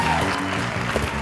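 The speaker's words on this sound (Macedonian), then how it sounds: "ајде да им дадем еден аплауз" A studio audience claps on a family game show, a sustained wash of applause blended with voices and background tones.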